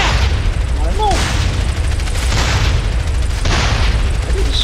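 Loud booming explosions from the GTA San Andreas video game as a tank is blown apart, a steady roar of blasts and gunfire filling the whole stretch with a few swelling bursts, while voices talk over it.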